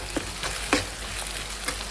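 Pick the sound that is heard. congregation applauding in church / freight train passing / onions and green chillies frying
onions and green chillies frying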